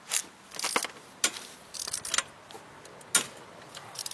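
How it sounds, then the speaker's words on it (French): Sharp ratchet clicks come in short, irregular bursts from a hand tool used on a Wolf M53 lawnmower, close and fairly quiet. Several quick clicks are spaced out, with gaps of near silence between them. "Ouais, c'est un cliquet de merde."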